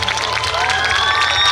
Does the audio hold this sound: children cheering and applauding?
yes